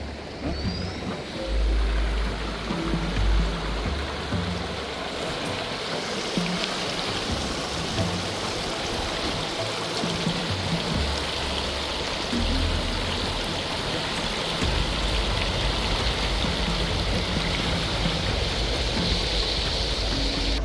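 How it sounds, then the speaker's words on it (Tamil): Water running through a stream gives a steady, dense rushing wash that stays constant throughout at moderate loudness, with no voices. "இந்த பிரதேசம் ஃபுல்லாகவே தண்ணி ஓடி வரும்"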